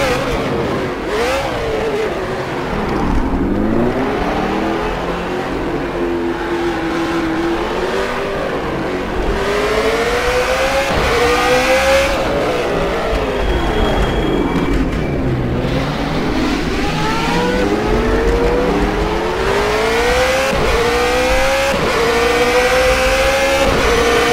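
A 134 Judd race car accelerating hard around Spa in rFactor 2, the engine screaming up through the revs in repeated rising sweeps with gear changes, loud and close, no talking.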